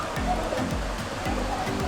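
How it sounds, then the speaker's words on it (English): River water flowing steadily at Xcaret park in Mexico, a continuous close rushing wash with low churning rumble throughout. "Alright, so this is our first river."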